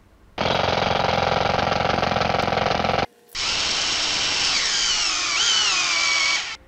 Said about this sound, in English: Now, I'm going to use a drill on these because I want them to look a little nicer.